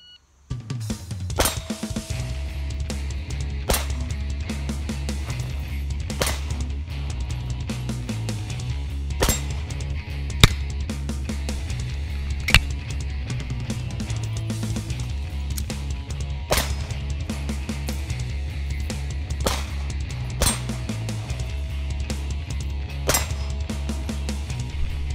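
Pistol shots ring out in a shooting drill with mags loaded four to six rounds, sharp cracks spaced every couple of seconds in an irregular rhythm with brief gaps for reloads, over a steady low background rumble.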